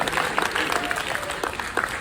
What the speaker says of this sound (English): One person clapped